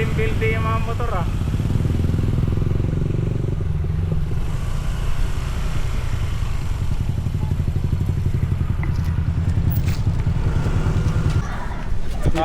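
Motorcycle engines idle and rumble close by with a steady low throb and some clatter, while people talk over them.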